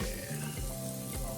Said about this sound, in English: we're going to take our heavy cream, and we're just going to deglaze this right here